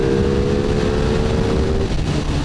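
A 2022 Ducati Streetfighter V2 naked motorcycle with stock exhaust pulls hard in fourth gear, its engine a loud, steady close roar mixed with rushing wind noise.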